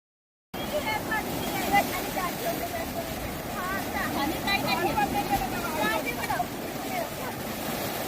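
Sea waves wash onto Devgad beach on the Konkan coast in a steady, broad surf roar mixed with wind, continuous and fairly close for the whole stretch after a brief silent start.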